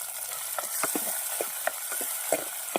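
Onion and green chillies sautéing in a pan for surakka poriyal, a steady hiss of frying punctuated by quick, repeated clicks and scrapes of stirring, fairly close.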